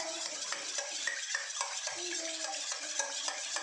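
Milk and olive oil for a fruit cake whisked briskly in a bowl, giving a quick regular clatter of the whisk against the sides, close and moderately loud, with no talking.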